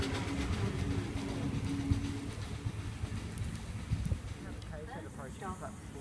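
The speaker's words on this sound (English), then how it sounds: "KSET arriving into platform number 2." A Sydney Trains K set pulls into the platform at Birrong station with a steady rumble that ends in rising, wavering brake squeals, while pigeons coo nearby and a person talks.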